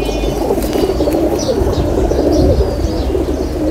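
Racing pigeons, including a green male, coo in a dense, continuous low chorus close by, with occasional wing flaps mixed into the loud, steady sound.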